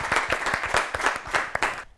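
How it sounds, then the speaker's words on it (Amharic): An audience at an Ethiopian children's TV show claps steadily for about two seconds, a moderate round of applause that stops abruptly. "እሺ አጨብጭቡለት፣ ድጋሚ አጨብጭቡለት።"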